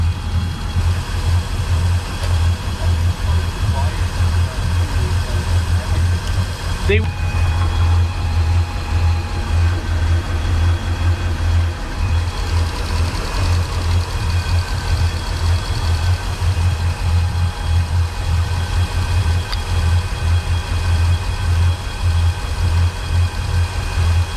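A Volvo Penta 8.1 Gi marine engine that runs rough and lacks power idles in a steady, loud, low rumble with an even throb, joined by a constant whine and one brief clank partway through, with no voices.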